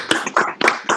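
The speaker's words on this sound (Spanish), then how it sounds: "le demos un fuerte aplauso a Carlos" A few close, separate hand claps during an online master's presentation, sharp and irregular rather than a full crowd ovation.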